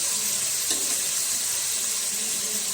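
Tomatoes sautéing with ginger garlic paste for chicken biryani: an even, close sizzle with one brief click of a utensil, no talking.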